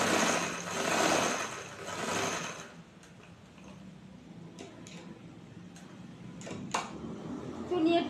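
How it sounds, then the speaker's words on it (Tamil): A sewing machine stitching a churidar top's back neckline, whirring in two short close bursts at the start, then quieter fabric handling with small clicks while a person speaks. "தைக்கும்போது இந்த ஓப்பன் எண்டில் வரும்போது வி ஷேப்பில் தைக்கிறோம்"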